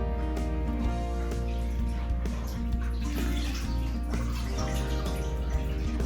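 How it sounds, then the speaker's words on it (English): Water sloshes and splashes in a bucket as dyed clothes soaking in it are lifted out, a continuous close wet churning with drips and no talking. "I'm choosing to take them out of this bucket and place them in a smaller pail to carry them to my sink."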